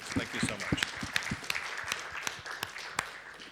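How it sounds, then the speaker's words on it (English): Audience applause at the close of a conference breakout session, a scattered patter of claps from a modest crowd with a few sharper individual claps, moderately near. "So a round of applause for the participants."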